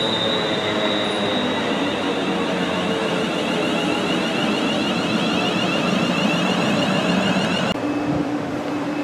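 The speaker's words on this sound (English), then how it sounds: "Here comes the 1410 London Midlands service to Liverpool Lime Street." A London Midland Class 350 electric train arriving at Stafford station, loud and close, with continuous rumbling wheels, a high steady squeal and a droning motor whine, no voices.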